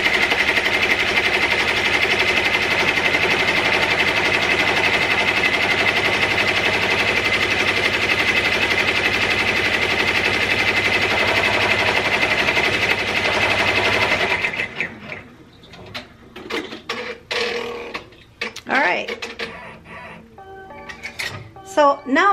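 An embroidery sewing machine stitches cross-stitch fill on a pan handle potholder, a steady loud mechanical whir for about fourteen seconds that then cuts off, leaving scattered light handling noises and brief talk.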